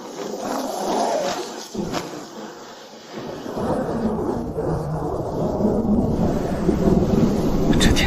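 Deep rolling thunder rumbles over a broad wash of wind and rain as the weather suddenly turns stormy in a seaside fishing village, growing steadily louder and fuller toward the end.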